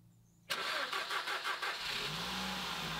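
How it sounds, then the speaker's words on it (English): A 2007 Ford Focus Mk2 engine cranks and fires into life on a cold, frosty morning, catching with a sharp burst, then revving briefly before settling into a steady idle, close and loud with no talking. "It started the car."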